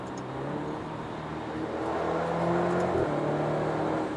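An Alfa Romeo Stelvio Ti with a Centerline Stradale aftermarket exhaust revs up, its low engine drone rising steadily in pitch, then dipping briefly and holding again, heard close and without talk.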